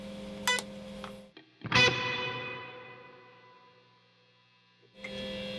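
Electric guitar through a Source Audio Collider delay and reverb pedal on the hall reverb setting: two separate strummed chords, each ringing out into a long, slowly fading wash of reverb before the sound swells back in at the end.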